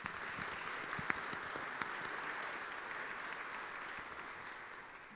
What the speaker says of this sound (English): let's give these faculty a round of applause